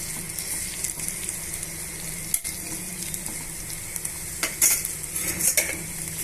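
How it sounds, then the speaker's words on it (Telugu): Chopped green chillies and onion pieces fry in hot oil for aloo masala dosa filling, a continuous loud sizzle with occasional spatula stirs and scrapes against the pan. "పచ్చిమిర్చిని తర్వాత ఉల్లిపాయ ముక్కల్ని ఇలా బాగా వేయించేసుకోండి"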